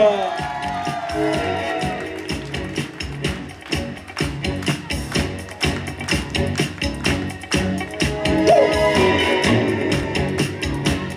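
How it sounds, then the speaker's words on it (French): A resort entertainment team's show crowd whoops and cheers after an animator is introduced, with dense clapping, shouts and rising voices throughout, loud and continuous with a talker over the noise. "Je vous demande de faire un tonnerre d'applaudissements pour Monsieur Nassim"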